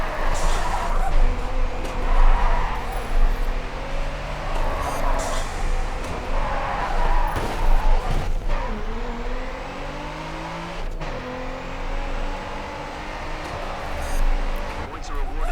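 A car drifts with tires skidding in the racing game Grid 2, the engine droning and rising in pitch through the slide, with someone talking over the continuous engine and tire noise.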